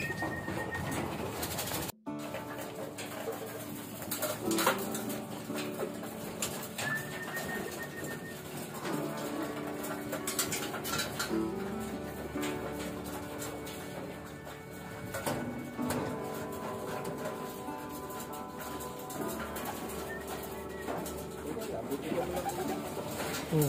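Pigeons coo steadily through a busy, noisy scene, their low throaty calls repeating over a dense wash of background sound.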